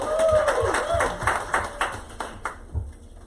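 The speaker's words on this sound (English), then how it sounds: "Round of applause for James Tate." Scattered applause from a small indoor audience, a run of separate claps that starts fairly full and thins out, with brief voices mixed in.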